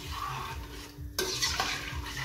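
Rice being stirred in a pot while cooking lamb pulao, with steady scraping and rustling strokes of a spoon against the pot, close and moderately loud, with a brighter clink partway through.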